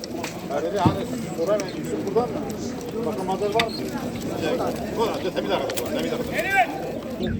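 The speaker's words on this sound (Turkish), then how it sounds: "Arkadaşlar burada yine karışık kuşlar var. Selamünaleyküm bereketli olsun. Dönekler var, baskalar var." Tumbler pigeons coo and flutter at a morning bird market in Halkalı, Istanbul, amid a busy crowd of chattering voices, with scattered bird calls rising over constant background talk.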